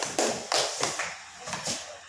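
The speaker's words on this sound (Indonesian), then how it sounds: "tepuk tangan untuk kelompok 5" A handful of separate hand claps from a small classroom group for a student team, close by, sparse and uneven, then fading out with no talking.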